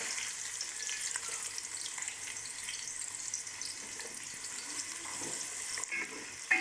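Onions frying in hot oil, a continuous low crackling sizzle that holds steady throughout, close and fairly quiet, with a slight clatter near the end.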